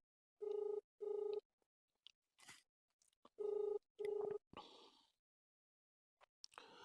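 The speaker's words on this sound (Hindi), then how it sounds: "लो जी, फोन मिला लिया हमने" A phone call is placed to a sewerage contractor: paired beeping tones repeat in two bursts against a quiet room, with faint clicks between them and a short rustle near the end.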